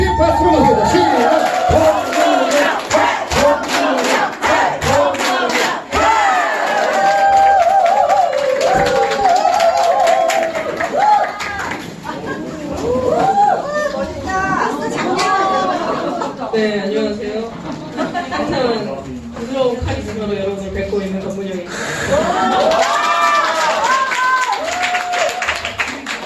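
An indoor audience at a lecture and recreation event gives a standing ovation, with sustained clapping and cheering and loud shouting voices over it. The noise swells and dips across the whole span.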